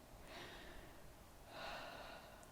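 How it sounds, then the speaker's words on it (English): Slow, deep breaths drawn and released through the mouth during a guided breathwork exercise while lying back: two soft, airy breaths, the second slightly fuller, set against a very quiet background. "start to take in some deep breaths all throughout the mouth"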